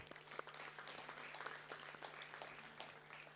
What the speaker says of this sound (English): you deserve another big round of applause